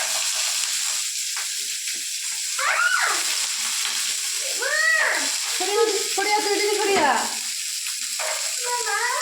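Chickpeas frying in spattering hot oil sizzle steadily with a hiss while voices talk nearby at intervals.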